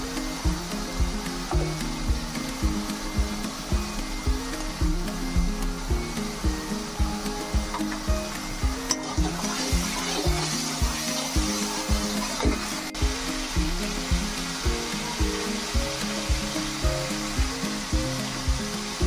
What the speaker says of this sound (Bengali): এটা 5 মিনিট ধরে কষাবো